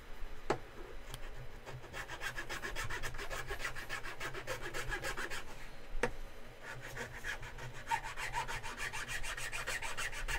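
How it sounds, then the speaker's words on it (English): A hand file rasping back and forth in quick, steady strokes, close and fairly quiet, with one or two sharper knocks along the way. "I'm going to start using hand file"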